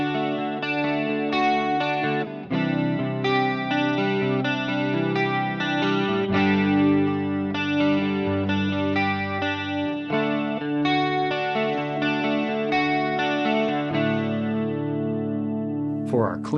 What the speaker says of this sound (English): For our clean tone, we have an analog stereo chorus at stock settings